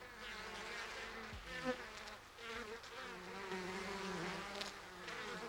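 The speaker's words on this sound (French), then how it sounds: "contrôlent la température de la ruche en battant des ailes pour créer un courant d'air" Steady, dense buzzing of honeybees fanning their wings inside a hive, a continuous droning hum that holds at a fairly even level throughout, with no voices.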